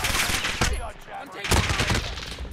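Rapid gunfire in a Call of Duty style shooter video game comes in two loud bursts of shots over a short stretch, with some game noise and a voice under it.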